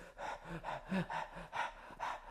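A voice imitates labored gasping breaths, about five rhythmic heaving inhales in a row, close and moderately loud.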